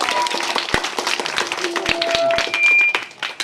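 A crowd claps hands at a lively gathering, uneven bursts of applause mixed with sharp individual claps and a few voices underneath.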